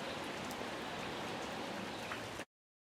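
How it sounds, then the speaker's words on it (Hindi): Heavy rain pours steadily at a home kitchen while Sabudana Vada is being prepared, a dense, continuous hiss of drops striking surfaces that runs without a break for about two and a half seconds before cutting off abruptly. "बहुत तेज़ बारिश हो गई है।"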